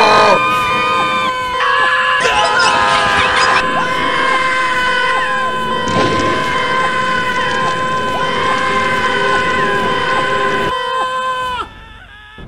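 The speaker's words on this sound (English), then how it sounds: "Everyone's screaming." Crowd screaming in the video game Puzzle Agent, a sustained loud chorus of panicked voices with tonal music or alarm-like tones running beneath, steady for about eleven seconds before cutting off abruptly.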